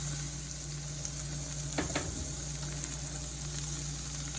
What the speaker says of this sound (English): I'm using medium heat. The squash is also already cooked, so I am just trying to give it a little bit of color from cooking